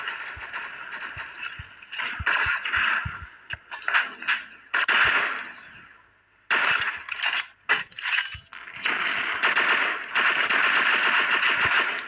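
Gunfire in the shooting game Infinity Ops: rapid mechanical bursts of shots, some in quick rattling runs and others as separate cracks, with a brief silent gap in the middle and no talk.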